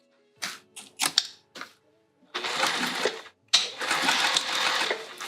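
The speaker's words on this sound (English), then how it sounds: "we're gonna sew the sides all the way across the bottom, and then we'll box our corners" Domestic sewing machine stitching the sides of a vinyl tote bag, opening with a few short stop-start bursts before two longer steady runs of rapid needle chatter, close and clear.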